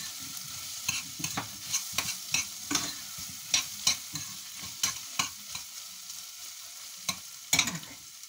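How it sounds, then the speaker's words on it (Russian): Goulash with tomato paste stirred in a pan, a spoon scraping in a run of sharp, uneven strokes over a soft sizzle, close and fairly quiet. "Это вместе размешаю."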